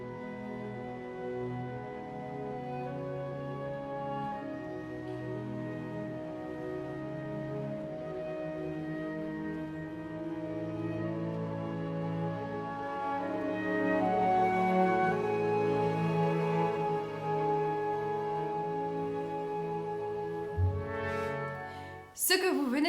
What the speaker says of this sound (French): j'attire votre attention sur les cordes qui vont faire une sorte de balancement